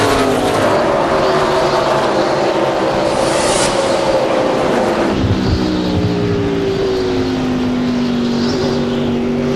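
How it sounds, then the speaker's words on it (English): A NASCAR stock car engine roars at speed during the 2003 Pontiac Excitement 400, a loud, continuous onboard drone with pitch shifting as the driver works the throttle, rising and dipping across the run. "And you hear the throttle in Kenny's car."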